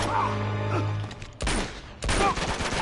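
Gunfire in the video game Uncharted 2: Among Thieves, with loud close bursts of shots separated by short gaps, and a sustained tonal hum beneath the first part.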